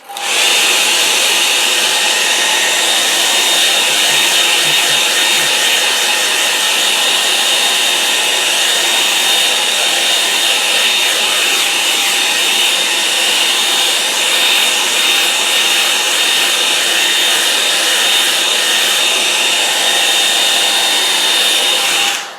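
A hair dryer blows steadily on a wet watercolour landscape painting, a loud, continuous close-up whooshing hum with a faint high whine that stays unbroken for over twenty seconds.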